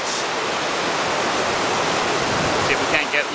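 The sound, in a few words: glacier-water waterfall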